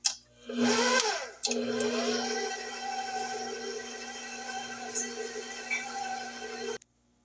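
An electric stand mixer on its lowest speed blending butterscotch pound cake batter after the final flour goes in, a loud steady motor whir with a brief stop and restart near the start before cutting off at the end.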